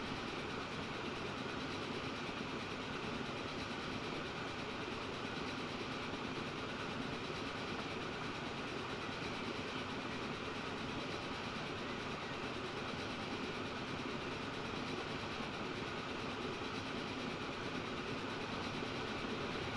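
Passenger trains roll along the rails in the transport simulation game Transport Fever 2, on a tropical map, giving a continuous, even rumble with a soft rolling clatter that persists throughout with no voices.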